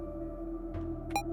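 A short electronic bleep from a Lua-programmed game, a single bright tonal beep near the end over a steady low hum.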